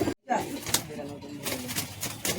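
Pigeons coo softly in a pigeon loft at Bagnan, short throaty murmurs close by, with a person talking over them.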